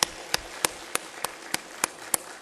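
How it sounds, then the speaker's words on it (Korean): Sparse hand claps during a church service, eight or nine sharp single claps spaced evenly, like one or two people clapping steadily rather than a full crowd. "박수합니다"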